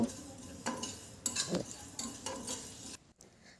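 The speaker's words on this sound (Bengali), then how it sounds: "পাঁচ ফোড়নটা যেন পুড়ে না যায় হালকা লো ফ্লেমে প্রায় এক মিনিট মতো ভেজে নেব" Panch phoron spices fry in a pan over a low flame for a pumpkin dish. A faint sizzle runs under scattered scraping stirs and light clinks of a spoon against the pan.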